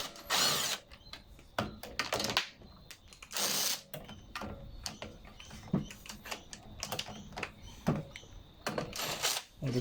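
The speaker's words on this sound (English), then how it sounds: "So we're using the M7 to remove the other 2 screws." A socket ratchet clicks in quick bursts while undoing the air filter base screws on a lawnmower with a Briggs & Stratton 500E Series engine, the close, sharp ratcheting interrupted by brief pauses and handling noises.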